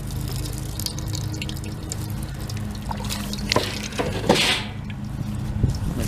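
Salt water trickles and drips steadily out of a pressure washer flooded by a hurricane, close up, with a few sharper splashes and knocks along the way.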